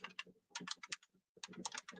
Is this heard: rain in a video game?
no